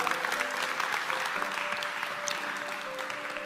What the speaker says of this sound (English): Give him a clap, because it's a true story.